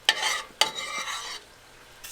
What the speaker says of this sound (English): Let's flip these wings. I just want to move these around.